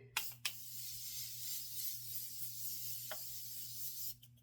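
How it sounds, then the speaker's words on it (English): A long, steady hiss of Morphe makeup setting spray runs for several seconds, opening with two short puffs and ending with another, close and fairly quiet. "I'm using this one. This is the Morphe setting spray."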